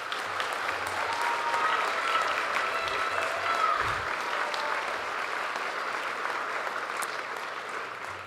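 Sustained applause for graduates on the floor of a 2025 Craft Academy graduation ceremony, a large crowd clapping continuously in a big hall, even and dense for the whole stretch with a few faint voices mixed in.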